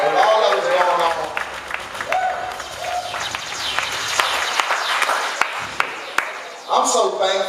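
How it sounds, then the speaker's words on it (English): Crowd applause at a live entertainment show, a dense wash of clapping from a room full of people with voices and shouts mixed in, fairly loud and close, swelling again near the end. "y'all give yourselves a round of applause for coming out to support live entertainment"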